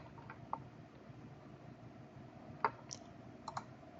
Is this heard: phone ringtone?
no